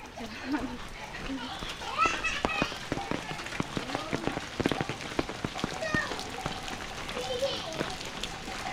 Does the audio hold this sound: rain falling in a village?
yes